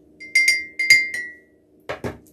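Ice cubes clinking into a glass: several bright clinks in two quick clusters, then a pair of duller knocks, close and clear with a faint steady hum underneath and no talking.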